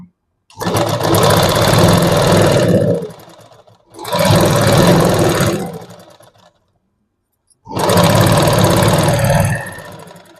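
A sewing machine stitches a blouse lining seam in three loud, steady bursts of rapid mechanical whirring, with short pauses of silence between runs.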